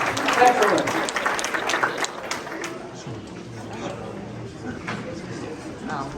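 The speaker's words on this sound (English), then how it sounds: "Give yourself a round of applause." Attendees at an evening board meeting give a round of applause, a burst of clapping mixed with chatter that thins after a couple of seconds into murmuring and scattered voices.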